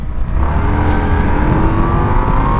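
A 2025 Indian Sport Scout motorcycle pulling hard in second gear around 3,500 rpm, a loud, close engine note with a steady rising drone and throaty low rumble throughout.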